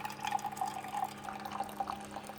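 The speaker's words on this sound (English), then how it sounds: "Eventually that fresh water is going to make it through the machine and clean it all the way out." Fresh water trickles and drips through a Keurig K-Duo coffee maker during a descaling rinse, a steady close gurgling flow with small bubbling pulses over a low mechanical hum.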